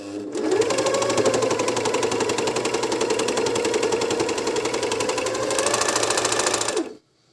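A SilverCrest 90 A1 overlock sewing machine runs steadily at speed for about six seconds, a close, loud, even mechanical stitching hum that starts and stops abruptly with no talking.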